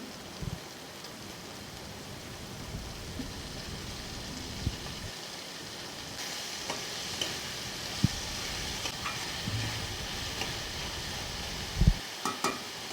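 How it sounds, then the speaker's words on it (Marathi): Spring onion greens sizzle steadily while being sautéed in a pan for vangyache bharit, a continuous rain-like hiss of frying with a few faint stirring knocks and no voices. "आता कांद्याची पात घालू।"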